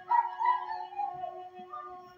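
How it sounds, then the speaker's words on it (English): Dogs howl and whimper in a drawn-out, wavering cry, one or two animals at moderate distance with no bark-like bursts, against a quiet background and no speech. "You hear the dogs barking."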